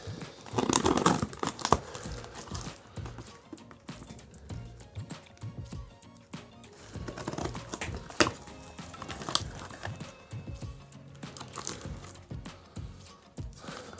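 Crinkling and tearing of plastic wrap and tape, with rustling handling noises in bursts, close by and fairly loud.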